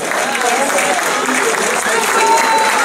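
Audience applause after a stage performance of a film production, steady dense clapping throughout, loud and close, with a few voices mixed into the crowd.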